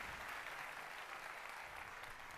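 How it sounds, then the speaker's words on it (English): Audience applause for a drumline at a live EA Play gaming showcase, a steady, even clapping wash that holds for a couple of seconds with no voices over it. "Round of applause for the drumline"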